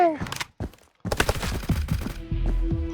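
Gunfire in the Roblox military shooter Blackhawk Rescue Mission 5, a few sharp bursts of shots at the start and again mid-clip amid loud game noise, with a steady engine-like drone building toward the end.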